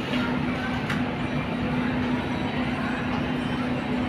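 A train runs past close by with a loud, continuous rumble and steady mechanical hum, a constant roar throughout with a faint voice underneath.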